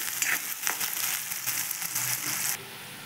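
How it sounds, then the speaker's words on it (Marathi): Chopped onion fries in a pan with mustard seeds in hot oil, a close, steady sizzle with a few soft crackling pulses throughout. "कांदा छान भाजत आहे"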